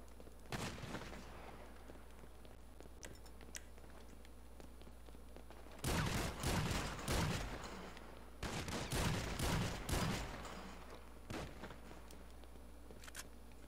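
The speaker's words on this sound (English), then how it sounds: "Start shooting, motherfucker!" Bursts of gunfire in a GTA 5 Online firefight, clustered volleys of loud rapid shots around the middle of the stretch with scattered single cracks before and after.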